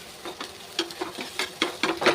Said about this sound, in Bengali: এই 3টে ডিম দিয়ে এবার আমি এটাকে পুরো ঘেটে ঝুরি ভাজা মতন করে নেব